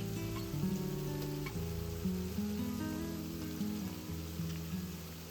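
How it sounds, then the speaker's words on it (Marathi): Ginger garlic paste hits frying onions in a pan for chicken biryani, a steady close sizzle running throughout with a soft pattering, crackling texture and no voices. "आले लसूणची पेस्ट टाकूया."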